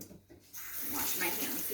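Water gushing from a tap while hands are washed, a steady rushing splash that starts suddenly and carries on close and moderately loud.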